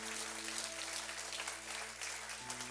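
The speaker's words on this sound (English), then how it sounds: "give the Lord a hand clap" A church congregation claps for the Lord during a sermon, producing a faint, steady patter of many hands heard from a distance over a constant low electrical hum.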